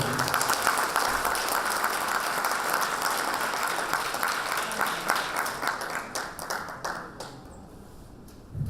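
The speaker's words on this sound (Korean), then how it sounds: "우리 다 같이 승리를 축하하는 의미로 박수 드립니다." A crowd at a party's Seoul chapter rally for newly elected winners applauds an election victory, loud and continuous clapping that carries on for several seconds before thinning and fading near the end.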